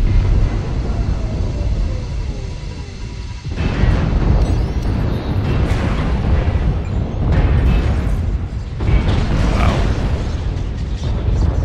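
Artillery strikes land in the video game MechWarrior Online, a sustained loud rumble of explosions and booming bursts over dense mechanical game noise, surging sharply partway through and continuing without talk.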